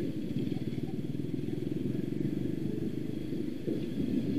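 A geared motorcycle idles and revs gently as the clutch is feathered, a steady low putt-putt rumble heard nearby with slight swells in engine speed.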